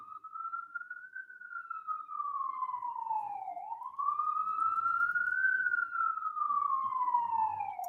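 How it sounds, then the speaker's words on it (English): Emergency vehicle siren passing outside, a single clear wailing tone that sweeps slowly up and down for about eight seconds, loud and steady with faint background noise beneath it. "we didn't have a siren yet, but look at that"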